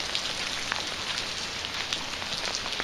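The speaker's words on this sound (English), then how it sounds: "Definitely a lot windier and a lot more rain going on right now." Heavy rain during Hurricane Sandy in 2012, a steady dense hiss of falling rain with scattered drop patters, continuous and fairly close, with no voices.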